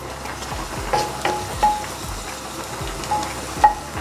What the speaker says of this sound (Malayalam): എണ്ണ ചൂടായി കഴിയുമ്പോൾ ആദ്യം അതിലേക്ക് നമുക്ക് വെളുത്തുള്ളി ഇട്ട് കൊടുക്കാം